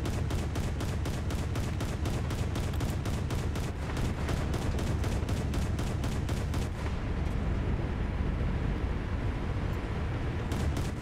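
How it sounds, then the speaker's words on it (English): Rapid, evenly spaced bursts of ship cannon fire from naval combat in the video game War Thunder, a loud, dense rattling barrage that runs continuously and then thins out, with no talk over it. "My cannon is firing somewhere up front."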